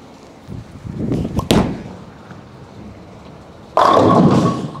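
A new Radical Outer Limits bowling ball, resurfaced at 2000 grit, rumbles down the lane with a few sharp clicks, then hits the pins in a sudden loud crash near the end.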